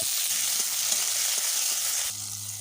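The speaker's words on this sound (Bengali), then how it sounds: "ফোড়নে গোটা জিরে চেরা কাঁচা লঙ্কা কয়েক সেকেন্ডের মতো ভেজে নেব" Whole cumin seeds and slit green chilies fry in hot mustard oil, giving a dense, steady sizzle throughout with faint stirring clicks underneath.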